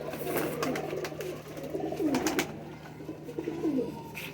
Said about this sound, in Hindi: ये मेरे कोबरे हैं, ये क्रॉस कबूतर हैं, पट्टी वाले क्रॉस हैं।